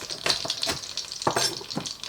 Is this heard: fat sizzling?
yes